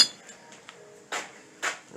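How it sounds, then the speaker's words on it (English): A 16-ounce ball peen hammer strikes a bolt on a car's front suspension arm: a few sharp metallic clinks and two harder ringing blows, recorded close and fairly quiet, with no talk. "you just start, you know, hammering on it with a nice 16-ounce ball peen hammer or heavier"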